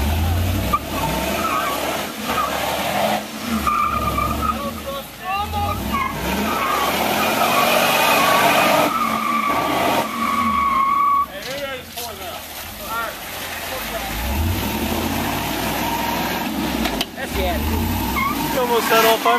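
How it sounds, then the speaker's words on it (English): A Hummer H2 churns through deep mud and water, its engine revving loudly and tires spinning and squealing in long bursts, with people talking and shouting over the continuous roar. "tires squealing in the mud"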